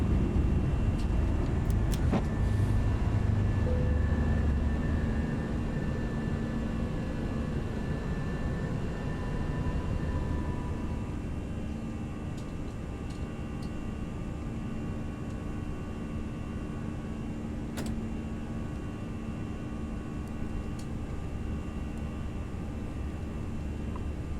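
Airbus A321 jet engines in X-Plane 11 hold a steady, loud roar with a rumbling low end as the airliner climbs out after takeoff, fading slightly over time, with no talk.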